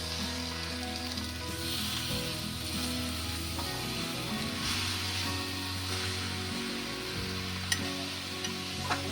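Cabbage sizzling in a pan as chili, coriander and cumin powder and salt are mixed in, a steady close frying hiss with continuous scraping stir sounds and a few light clinks.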